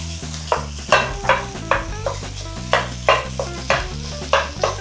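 Meat frying in fat in a 350-degree skillet, a constant sizzle broken by regular sharp scraping and clanking strokes of a utensil against the pan, close and fairly loud, no talk.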